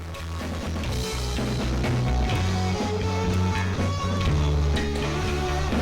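Music run through the Airwindows Facet soft-clipping distortion plugin plays as a dense, gritty, saturated passage with steady notes and beats, loud and unbroken for about six seconds.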